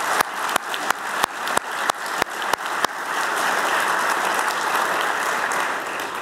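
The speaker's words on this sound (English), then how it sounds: "please join me for one last round of applause for the 6 winners." Applause for six award winners at a State Department ceremony opens with several loud, evenly spaced single claps, then swells into steady, dense clapping from the whole audience that holds before easing slightly.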